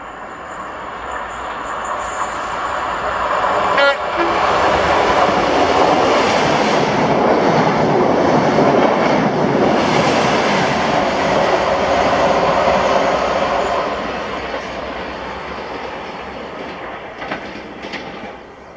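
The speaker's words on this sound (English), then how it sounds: "this is 1T98, the 1010 ScotRail service to Glasgow Queen Street from Inverness" A ScotRail passenger train on the Inverness to Glasgow Queen Street service passes at Blair Atholl, swelling into a loud close rush of wheels and rail noise with a brief horn, then fading away.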